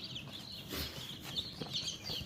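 Chickens cluck softly in a poultry house of about three hundred birds, scattered bird calls over a faint hum of the shed.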